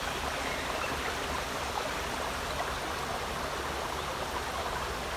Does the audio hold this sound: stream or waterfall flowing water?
yes